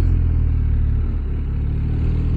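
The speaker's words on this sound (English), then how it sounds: "especially when you start it, it does shoot to the left, kind of shakes the bike a little bit" A BMW R 1250 RS motorcycle's boxer engine runs steadily close by, a continuous low, throbbing rumble with a faint mechanical clatter and no talking.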